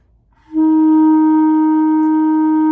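During a whole-note practice exercise, a clarinet enters after a short pause and sustains a single clear, loud note, close and unaccompanied, with no voices.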